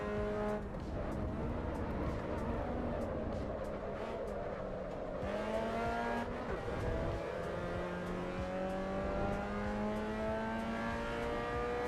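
A race car engine roars in the Assetto Corsa EVO racing game, holding a loud steady drone with pitch sweeping up and down through gear changes and a brief tire squeal, no talk.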